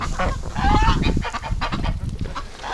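Loud, near honking from a flock of domestic geese and ducks just after their winter bath by the barn, overlapping calls that keep going with no pauses.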